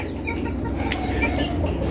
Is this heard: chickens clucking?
yes